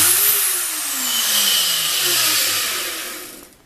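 A freshly wired electric motor whines loudly after being switched on, a high close whir with a descending tone as it spins, cutting off abruptly at the end.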